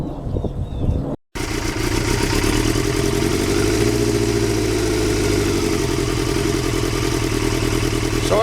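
A motorcycle engine runs steadily and loud on a short local test ride through snowy surroundings after a clutch switch repair, with a brief cut near the start, then continuous mid-pitched droning and clatter throughout.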